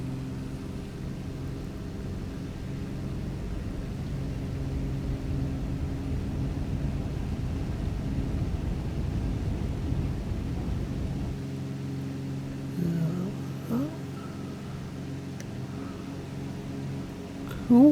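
A small light aircraft with fixed landing gear rolls down the runway for takeoff, its engine a steady droning hum with rumble and rattle building mid-roll, then easing as the ground noise falls away.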